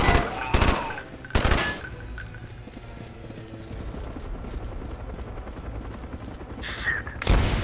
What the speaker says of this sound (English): Your chopper is inbound.